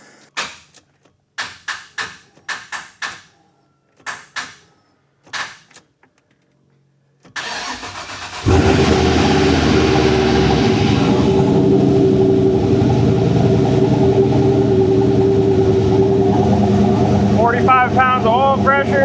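A Ford OBS truck engine cranks and catches after a few short bursts, then settles into a loud, steady run close by, with a rising rev near the end; someone talks briefly beforehand.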